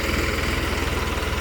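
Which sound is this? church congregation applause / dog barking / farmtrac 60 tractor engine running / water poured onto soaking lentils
farmtrac 60 tractor engine running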